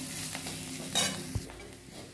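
Chopped ginger and green chillies fry in a pan for singara filling, a steady sizzle broken by stirring scrapes and one sharp knock of a utensil against the pan, close and with no talking.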